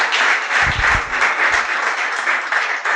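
Church congregation applauding during a Spanish-language service, a steady round of many hands clapping with a few low thumps mixed in, loud and close.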